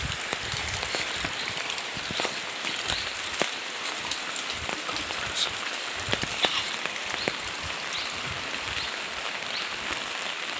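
Light drizzle falls steadily outdoors on a cool day near a stream, a soft continuous hiss of fine rain dotted with scattered tiny drop taps, with no voices.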